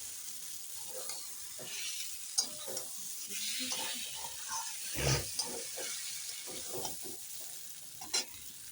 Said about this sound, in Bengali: আর একটু কষিয়ে নিই এখন কিন্তু ছ্যাপ ছ্যাপ শব্দ হচ্ছে তার মানে জলের ভাগ আর নেই